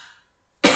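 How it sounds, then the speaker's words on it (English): A single sharp, loud cough comes close to the microphone after a trailing bit of breath and a short silence. "Oh gosh, I hope I'm not going to start coughing a lot now."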